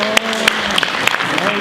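A church congregation claps, sharp scattered hand claps over a steady wash of applause, with a voice audible beneath.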